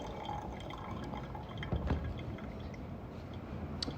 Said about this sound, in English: we're gonna pre-wet our filter first